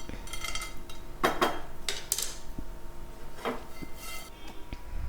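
Roasted ingredients for homemade protein powder are scraped from a pan onto a plate, giving a few clinking, scraping strokes of a utensil against cookware, close but fairly soft, with quiet gaps between and no speech.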